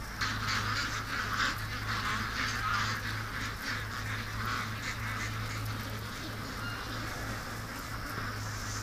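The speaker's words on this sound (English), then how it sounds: "Then why are the ducks freaking out?" Ducks in a yard quack and honk in a panicked, continuous chorus nearby, many birds calling over one another with a steady low hum underneath.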